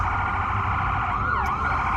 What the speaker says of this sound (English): Yeah, they're sending an ambulance out for this dude.